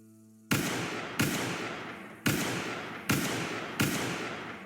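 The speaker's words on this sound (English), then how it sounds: "Now let's test the Mexican carbine." Five loud, sharp shots from a Mexican carbine in the Roblox game Wild West, fired at a slow, even pace, each shot trailing off in a long decay.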